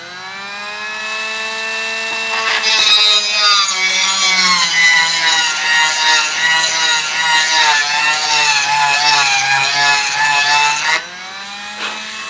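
A Dremel rotary tool spins a part like a makeshift lathe, giving a loud, continuous high whine with grinding rub that starts abruptly and holds for about eight seconds before cutting off.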